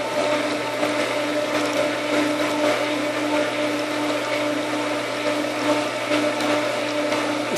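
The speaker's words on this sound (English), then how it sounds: "Turn on the filter." A swimming pool filter pump runs during backwash, giving a loud, steady mechanical drone with a constant hum and a watery, airy churn throughout.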